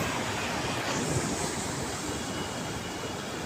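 Sea waves on the coast behind Ramchandi temple make a steady, soft wash of surf mixed with wind noise, continuous and fairly distant, with no voices.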